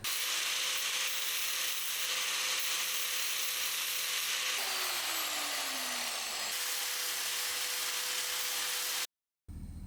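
A metal patch panel is trimmed for rust repair on a BMW E46 battery box, with steady abrasive grinding and rasping that holds level for several seconds, a brief pitch-sliding tool whine partway through, and a sudden cut-off near the end.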